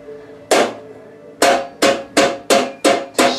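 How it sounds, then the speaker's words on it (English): A cloth-wrapped light bulb smashed with a hammer: one loud sharp blow, then a pause and five more evenly spaced heavy thwacks, close and ringing briefly. "to smash this light bulb"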